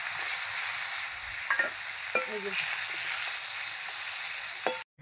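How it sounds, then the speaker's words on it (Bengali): Fish frying in hot oil in a pan while fish head is cooked with potatoes, a steady sizzle running throughout with occasional stirring clinks, close and continuous, with a brief spoken phrase near the start. "এবার দিলেই আমার মাছ ভাজা হয়ে যাবে।"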